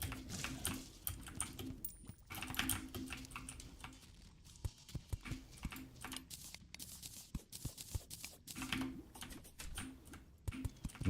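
Clicky computer keyboard typing, a quick irregular patter of keystrokes with brief pauses, close and fairly quiet, no talking.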